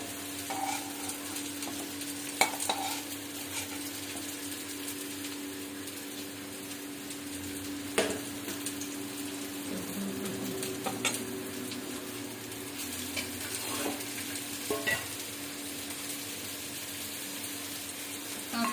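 Onion and garlic stir-frying in oil over high heat for chilli chicken, with steady sizzling, scraping spatula strokes and occasional clinks against the pan, fairly quiet and with no voices.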